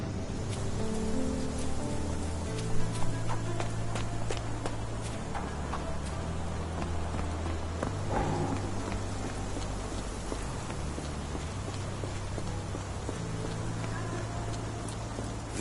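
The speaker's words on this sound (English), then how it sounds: "This dreary rain is making a miserable day even worse." Steady video game rain, from Sherlock Holmes The Awakened, patters continuously, with a low droning tone and scattered drips and small knocks layered over it.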